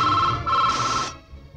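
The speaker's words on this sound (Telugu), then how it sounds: "ఫోన్ రింగ్ అవుతుంది." An electronic phone ringtone plays clearly for about a second, a bright melodic tone that steps up in pitch before stopping, heard alone without talk.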